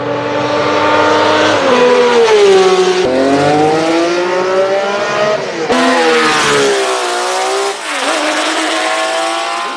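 An early-1970s 12-cylinder race car engine, roaring loud and close with rising and falling revs through gear changes for about ten seconds, no voices.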